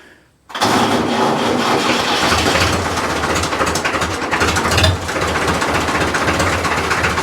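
An old 1960s tractor's diesel engine, long unstarted, cranks and catches abruptly, then runs loud and rough with a steady knocking rumble.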